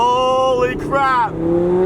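A V10 Audi R8 fitted with a full Capristo exhaust revs hard and loud close by, its pitch sweeping up, dropping and climbing again over about two seconds.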